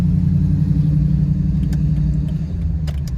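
A 2003 Jeep Wrangler Rubicon drives on the road, its engine a loud, steady low rumble heard from inside the cabin with faint ticks and rattles on top and no talk.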